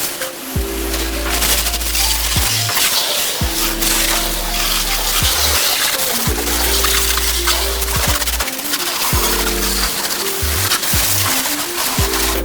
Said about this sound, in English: Gonna rinse off as much of the loose leaves as I can.